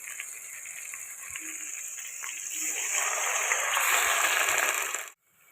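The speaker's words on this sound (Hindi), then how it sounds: "तो थोड़ा सा अब हम इसमें पानी ऐड करेंगे जी।" Water pours steadily into a cooking pot of biryani masala with garlic-ginger paste for Sindhi chicken biryani, a close, continuous gushing that swells in the middle and stops abruptly near the end.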